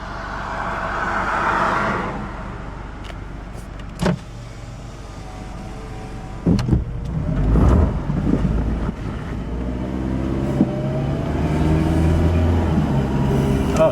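A 2006 Honda CR-V drives during a transmission shift test, its engine hum and road rumble rising and falling, with thumps and wind buffeting the microphone.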